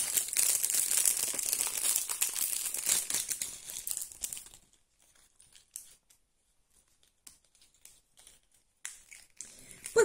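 A plastic package from a Wish mystery box being torn and crinkled open, loud and continuous for about four seconds, then fading to scattered faint rustles.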